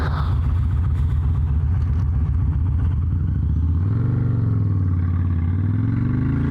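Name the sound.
Harley-Davidson motorcycle engine caught between gears while riding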